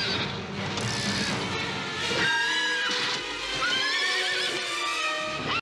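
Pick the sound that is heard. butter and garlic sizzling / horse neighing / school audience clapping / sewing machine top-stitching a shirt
horse neighing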